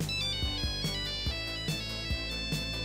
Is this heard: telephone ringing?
yes